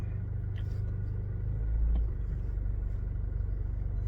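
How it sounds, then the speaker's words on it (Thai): A Toyota Fortuner GR Sport 2.8 drives in four-wheel-drive low range on a paved road, a steady low engine and road rumble heard from inside the cabin, swelling slightly midway. "อันนี้ผมเปิดใช้งานแล้วนะครับ ขับ4นะ เป็นถนนลาดยางนะครับ"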